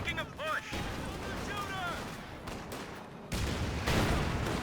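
Grenade blast and gunfire in a Company of Heroes 2 match, German push near a house, with a sudden loud burst late on over continuous battle noise, under a commentator's talk.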